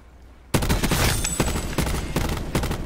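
Loud automatic gunfire bursts out suddenly after a quiet start in a Black Ops 4 match, with rapid repeated shots and sharp cracks continuing to the end.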